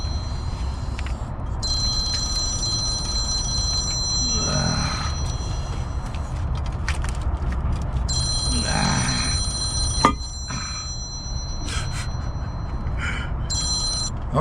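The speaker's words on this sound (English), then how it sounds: "All right, now this phone is off the hook today." A telephone rings in a garage during a 3800 LeSabre cylinder head install, its repeated high bell bursts sounding twice over steady shop background noise, with a voice briefly audible.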